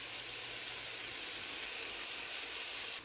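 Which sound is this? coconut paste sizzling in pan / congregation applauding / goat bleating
coconut paste sizzling in pan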